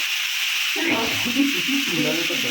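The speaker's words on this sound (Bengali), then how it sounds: "এখন রসুন পেঁয়াজের সাথে আলু ভেজে নেব" Potatoes frying with garlic and onion sizzle in a pan, a steady hiss with occasional stirring scrapes, close and continuous.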